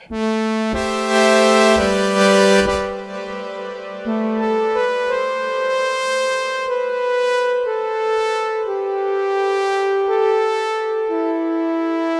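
Korg Wavestate synthesizer with reverb, a continuous run of rich sustained notes changing pitch over about twelve seconds, with a washy, swelling tail, loud and up close, no speech.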